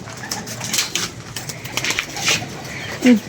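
Soft pigeon cooing in a busy outdoor setting, with scattered rustling and clatter around it and a clearer low coo near the end.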